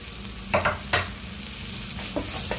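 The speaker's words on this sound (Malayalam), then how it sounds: "ഈ പൊടികളൊക്കെ നന്നായിട്ടൊന്ന് മൂക്കട്ടെ." Spice powders, including turmeric, frying in a pan with a soft continuous sizzle, broken by a few sharp spoon scrapes and clicks against the pan, close and with no talk.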